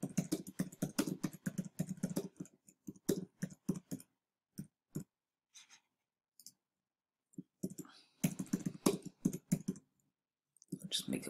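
Typing on a computer keyboard while making an ebook in Canva: fast clusters of close key clicks, pausing for stretches of near silence, then resuming in quick bursts.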